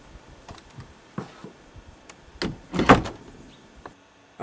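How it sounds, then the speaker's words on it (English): A door is pulled shut in a desert shelter: a few soft clicks and rattles lead to a louder thudding latch near the end, close and otherwise quiet. "Now pull that door shut before critters come in."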